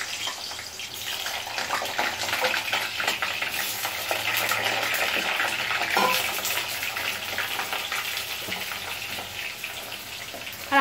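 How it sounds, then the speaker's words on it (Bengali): Potato pieces frying in a pan with steady hiss and crackle, joined by stirring scrapes and clatters, close and fairly loud, with no voices over it. "এই যে আলু ভাজছে এখন, দেখো।"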